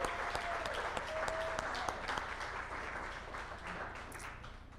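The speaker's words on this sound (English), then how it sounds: "we want to give her a round of applause and thank her" An indoor audience at a Brain Injury Association of North Carolina 40th anniversary celebration gives a round of applause, dense steady clapping that holds for several seconds, then gradually thins and softens.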